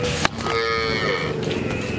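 A cow lets out a loud, drawn-out moo close by, its deep, tonal call continuing steadily for a couple of seconds with a sharp knock near the start.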